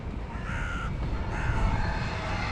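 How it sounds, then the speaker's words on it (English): Crows gathering in a flock of about thirty at a feeding spot on a frigid day, giving several loud raspy caws over a steady outdoor background. "The same number of crows, about 30, 35 crows."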